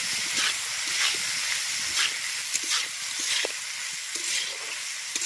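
Eggplant sizzles and hisses steadily as it fries and is stirred together in a pan over low heat, with faint scraping touches now and then, a constant close crackle and no voices.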